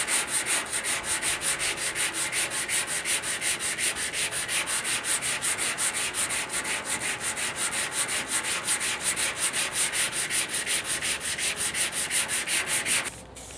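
Final sanding on a 1956 Ford pickup fender during prep for paint, heard as a steady, rapid back-and-forth scraping rhythm, close and even for about thirteen seconds before stopping abruptly.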